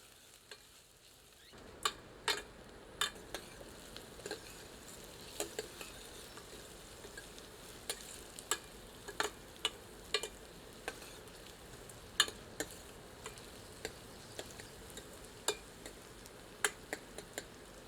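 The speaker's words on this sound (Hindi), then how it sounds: "मध्यम आंच पर भूनकर इसे सुनहरा कर लेते हैं।" Onions fry in oil over medium heat in a pan with whole red chillies, giving a soft, steady sizzle with scattered sharp pops and crackles, faint and close, with no voices.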